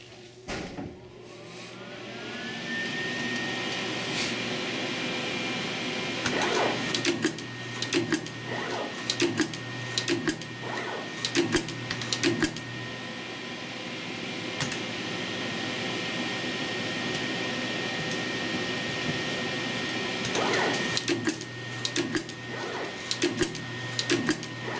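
A Hiker 101am web cutter with heater runs a cutting demonstration, its steady mechanical whine and hum punctuated by repeated clicks and clacks from each cycle, continuous and fairly near throughout.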